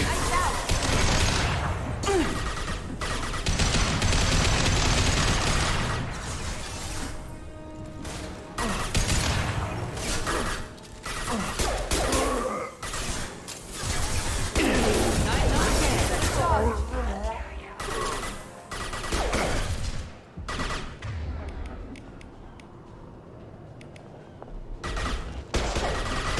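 Gunfire in the sci-fi shooter Mass Effect 2, sustained volleys of shots and bursts with crashes and mechanical clatter, loud and dense throughout, with people talking over the combat and a quieter stretch near the end.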